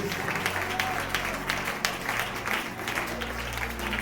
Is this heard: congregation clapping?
yes